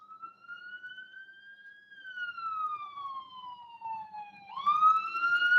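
An ambulance siren sounds loud and clear, a long slow wail sweeping up then gliding down before abruptly jumping to a higher, more urgent pitch, alone without voices.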